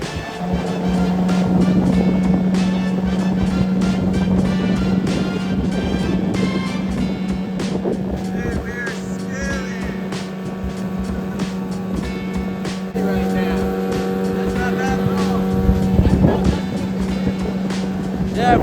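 An 18hp Hangkai outboard motor drives a 14ft john boat carrying two people, a steady loud engine drone with wind and water rush, holding a constant pitch throughout while a voice talks over it.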